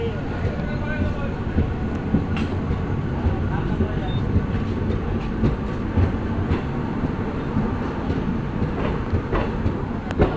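The Uttarbanga Express running on rails near Malda Town, a steady low rumble with rhythmic wheel clatter and occasional sharper clicks, heard from inside the moving train with muffled voices in the background.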